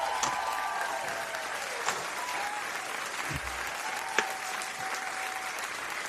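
A small group applauds to celebrate passing 300 subscribers, the steady clapping running evenly throughout, with a couple of louder claps standing out.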